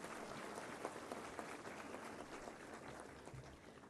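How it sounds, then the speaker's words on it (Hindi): An audience at an MSME Day celebration with the Vice President in attendance applauds, a steady, fairly faint patter of many hands clapping across the whole stretch. "एक बार जोरदार तालियां माननीय उपराष्ट्रपति जी के लिए"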